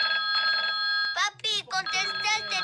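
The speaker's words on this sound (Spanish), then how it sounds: "contesta el teléfono" A telephone bell rings in a kitchen during cooking, a steady electronic trill that runs through the clip while a child and an adult talk over it.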